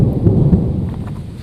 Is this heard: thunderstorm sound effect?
yes